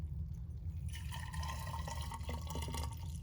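Brewed pour-over coffee from a Hario V60 setup is poured from one vessel into another, giving a steady, continuous splashing and trickling stream for about two seconds after a quieter start, with no talking.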